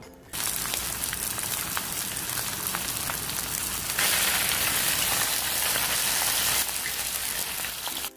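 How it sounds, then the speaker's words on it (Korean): Pork neck dusted in starch frying in oil in a hot pan, a steady, dense sizzle and crackle that fills the whole clip, loud and close with no talking. "이제 달궈진 팬에 식용유를 두르고 목살을 올려주세요."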